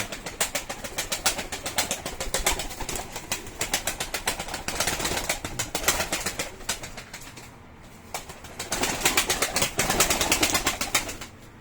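Pigeons, a pair with their young, cooing and flapping their wings in an enclosed loft, a steady, dense stream of close, fluttering rustles and soft calls throughout.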